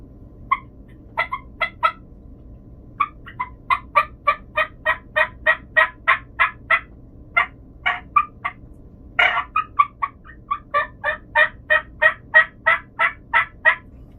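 A Woodhaven turkey call makes a series of gobbles and clucks repeated in quick rhythmic bursts, loud and close, with brief pauses between runs and a steady low background hum.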